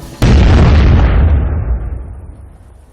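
A car bomb detonates in a film scene, opening with a sudden loud blast and then a rumbling roar that dies away slowly over about three seconds.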